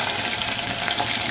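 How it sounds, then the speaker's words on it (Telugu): Chopped onion and green chillies frying in oil with crackling tempering seeds, a dense, steady sizzle close up and fairly loud, with no voices over it. "అవి కొంచెం బ్రౌన్ కలర్ వచ్చిందాక వేయించుకున్నామండి"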